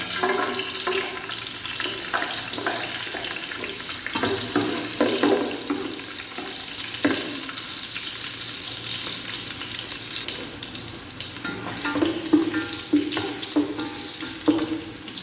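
Garlic frying in cooking oil for Filipino papaitang baka, a continuous loud sizzle with scraping stirs and a few clinks throughout, no voices.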